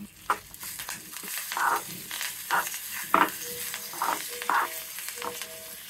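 Dried red chilies, cumin, mustard seeds, hing and curry leaves sizzle in hot oil for a Telugu tempering, a steady frying hiss broken by several sharp crackling bursts, close and loud with no talk.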